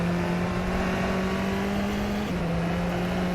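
Tatuus open-wheel race car engine in rFactor 2, a steady high-pitched drone held near the rev limiter with a brief dip around a shift, continuous and loud with no voices.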